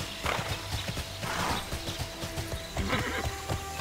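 Steady galloping hoofbeats of a horse mount in the online game Tera, with a neigh and game music underneath, rhythmic and clear throughout.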